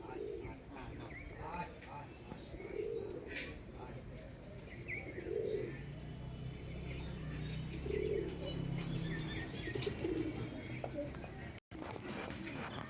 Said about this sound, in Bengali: মানে পায়রাগুলো নামছে দেখুন